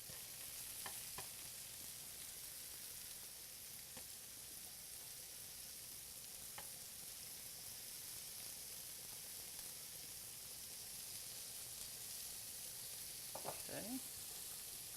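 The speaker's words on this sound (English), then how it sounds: "All right, so we're ready to begin adding our shrimp." Shrimp sizzle in a hot frying pan, a steady, fairly quiet frying hiss lasting throughout, with a few faint clinks and scrapes of handling near the end and no talking.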